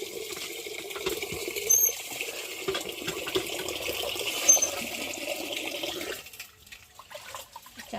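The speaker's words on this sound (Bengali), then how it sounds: "চালটা ধুয়ে নিই, মানে এই জল দিয়ে ধুয়ে নিই" Rice rinsed under running tap water, with a steady splashing gush for about six seconds that then stops, leaving a quieter trickle.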